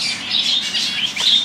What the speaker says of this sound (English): Lots of birds here as well.